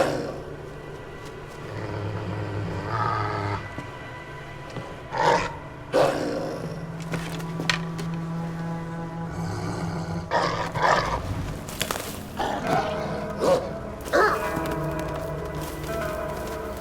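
In Assassin's Creed Valhalla, set in Asgard, a low animal growl and roar rumbles among game effects, with several sharp bursts over a steady, moderately loud ambient bed.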